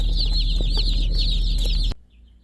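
Dense chorus of young meat chicks peeping in high, overlapping chirps, loud and close over a low hum, then cutting off abruptly near the end, leaving faint distant peeps.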